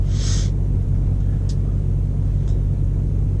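A truck rolls down the road with a constant deep rumble from inside the cab. A short hiss comes near the start and faint clicks follow.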